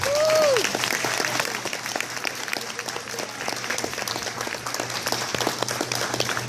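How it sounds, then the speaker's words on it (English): A school awards night audience applauds its honorees: steady, dense clapping from a full room that holds at an even level throughout, with a brief high whistle or squeal at the very start. "So one final round of applause for our honorees tonight."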